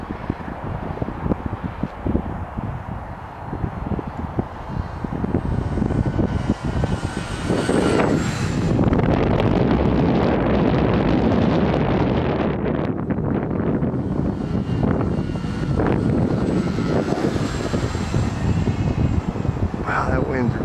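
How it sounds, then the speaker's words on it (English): Strong gusts buffet the microphone outdoors while an FMS Kemy trainer RC plane flies, a loud, rumbling roar that thickens after a few seconds and stays heavy, with the faint whine of the electric motor and a person talking. "Wow, that wind's really picked up."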